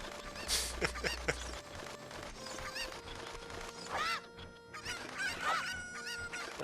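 Cuccos, the chickens of Zelda Ocarina of Time, cluck and squawk repeatedly over game background music, with several sharp bird calls scattered through the stretch.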